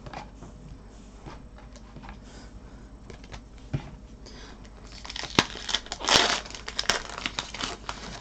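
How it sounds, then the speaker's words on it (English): Plastic wrappers on Cryptozoic Supergirl Season 1 trading card packs crinkle and tear in soft, irregular bursts, quiet at first and then a louder flurry of crackling near the end. "If I didn't have fun opening these cards."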